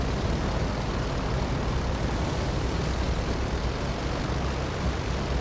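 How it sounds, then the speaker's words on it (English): A propeller airplane flies in GTA V Online, its engine a steady, dense, roaring drone that stays loud and unchanging throughout, with no one talking. "This plane is so versatile."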